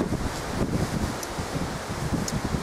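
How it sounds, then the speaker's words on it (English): Wind gusts through woodland trees, a steady rushing with rustling leaves and gentle swells, close and fairly loud. "there's something magical about the wind whistling through the woods"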